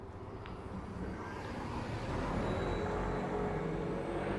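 A number 55 city bus passes a neighborhood bus stop on a quiet Sunday morning, heard as a low, steady engine rumble that gradually swells louder as it approaches, with faint street noise around it.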